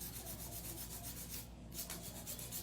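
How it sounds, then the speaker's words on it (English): Acrylic nails are hand filed with a hand file in close, rhythmic strokes, a soft scratchy rasp repeating steadily with a short pause partway through. "I'm gonna do a little bit of hand filing"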